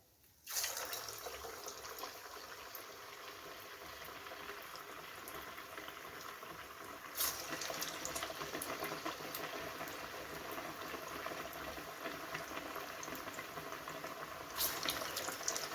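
Water boils steadily in a pot while cabbage and moong dal vadas cook in it, a continuous bubbling hiss that stays loud and close for the whole stretch with no voices.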